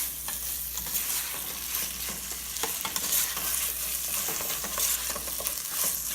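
Coconut curry tofu stirred in a hot pan makes a dense, continuous frying hiss with repeated spatula scrapes and soft clicks throughout, close and fairly loud with no talking.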